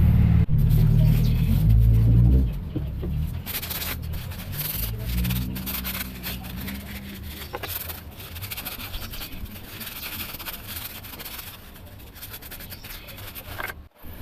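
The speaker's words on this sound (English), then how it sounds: "So now that I sand this piece" Sanding a car part during a catch can install on a 2004–2006 Mitsubishi Lancer, a steady close rubbing scrape that runs through the clip, loudest and heaviest in the first couple of seconds.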